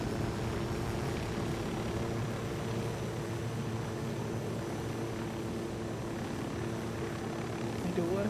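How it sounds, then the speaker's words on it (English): A video game helicopter's rotor and engine drone steadily throughout, with people chatting over the continuous whir. "Get in the helo."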